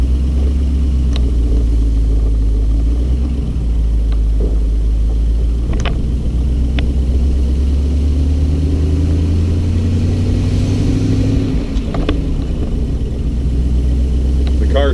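A 1932 Packard 903 convertible coupe rumbles along with a deep, steady low engine drone, rising and falling gently as it drives, with occasional small clicks and knocks over the constant hum.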